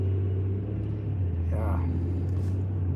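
A car being driven to work gives a low, steady engine rumble and road drone throughout, with a voice and faint cabin noises on top of it.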